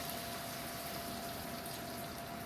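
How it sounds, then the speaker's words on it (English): Water gushes steadily into a pot for a salmon and tuna fish stew, a constant rushing pour at an even level for the whole stretch. "Alright, so I'm going to add about 2 to 3 cups of water."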